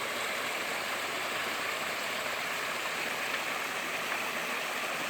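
A small creek waterfall in the mountains flows with a steady, close, full rushing hiss that holds constant throughout, with no voices.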